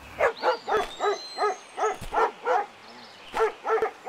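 Stray dogs in the zombie survival game Into The Dead 2 barking repeatedly in a quick, regular series of sharp, close barks, with a brief pause before a final burst.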